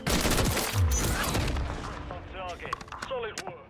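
Gunfire from the KV Broadside shotgun in the video game Modern Warfare 3, a burst of loud shots in the opening second and a half, then sparser cracks with voices talking over the rest.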